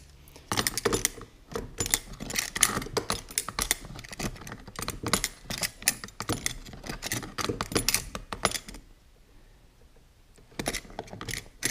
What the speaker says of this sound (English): then tighten it with the wrench